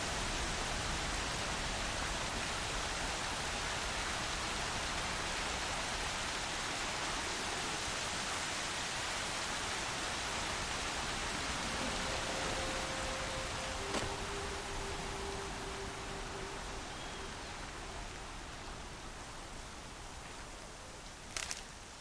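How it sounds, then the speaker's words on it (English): Steady broadband rain hiss from a storm in the video game Horizon Zero Dawn, an even, continuous wash at moderate level throughout, with a couple of brief tonal game sounds partway through and no talking. "The rain's letting up."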